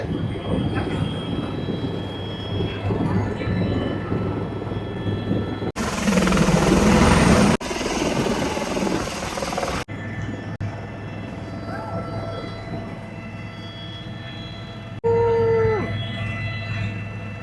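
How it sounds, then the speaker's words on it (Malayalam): A helicopter taking off and flying over the sea keeps up a steady, loud rotor drone and engine whine, with a brief louder roar in the middle and a tonal sweep near the end. "അങ്ങനെ നമ്മൾ പൊന്ത പോവാണ് ഹെലികോപ്റ്റർ എടുക്കാൻ പോവാണ്"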